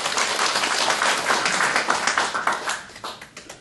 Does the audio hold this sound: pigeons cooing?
no